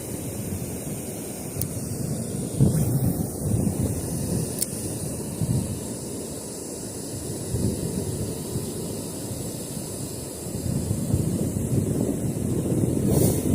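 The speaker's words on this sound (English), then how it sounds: "The wind, though, has just not been my friend today." Steady wind roars across the microphone at a river during a fishing trip, a constant low rumble with gusty swells that runs through the whole stretch, loud and close, with no talking.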